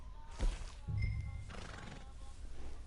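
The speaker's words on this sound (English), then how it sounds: "Eu vou deixar no estábulo esse cavalo aqui, que esse cavalo aqui pode ser bom" A horse in a PS4 video game gives a brief, fairly faint whinny, with soft hoof-like thuds underneath and steady background noise.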